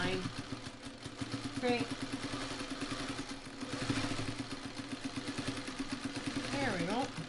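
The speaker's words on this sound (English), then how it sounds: "Now I'm just sewing this all the way up, just along that line." A sewing machine runs steadily, stitching a quilt carrier seam along a marked line, its mechanical motor hum and clatter continuing close by under a speaking voice.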